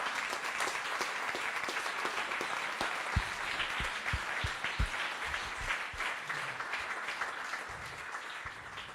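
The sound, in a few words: applause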